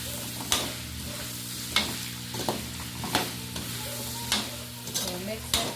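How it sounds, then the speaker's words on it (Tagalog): Pork adobo with potatoes is stirred in a sizzling pan, each scrape of the utensil landing roughly every second or so over a steady background fry. "Mix natin together yung patatas."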